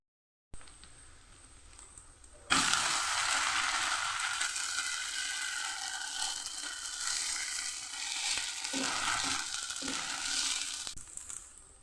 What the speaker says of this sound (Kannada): ಈಗ ದೋಸೆ ಮಾಡಲಿಕ್ಕೆ ಕಾವಲಿಯನ್ನು ರೆಡಿ ಮಾಡಿ ಇಟ್ಕೊಂಡಿದ್ದೇನೆ